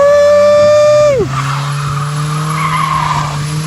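A modified car from Death Race 2 skids with a loud, sustained tire squeal that drops sharply in pitch after about a second, then settles into a steady engine drone with scraping tire noise.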